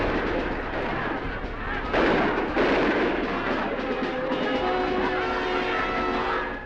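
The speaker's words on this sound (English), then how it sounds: "Tempers flare and the Russians start shooting." Soviet troops open fire during the invasion of Czechoslovakia, a dense, continuous roar of gunfire and blasts with a few stronger bursts, heard in old archival sound.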